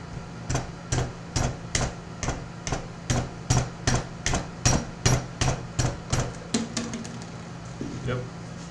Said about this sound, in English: I'll finish it up right now with the mallet.